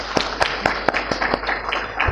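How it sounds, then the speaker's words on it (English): A small group of conference attendees clapping for panelists at a rooftop solar projects session, with distinct separate claps in a loose, fairly quick rhythm that stays close and steady. "let's make a big round of applause for"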